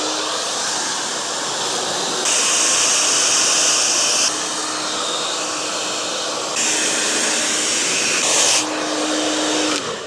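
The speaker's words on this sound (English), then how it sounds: "Time to blow dry." A hair dryer blows on plastic window insulation film, a loud, steady rushing hiss that stays on throughout and swells louder in a few sustained stretches as the airflow shifts.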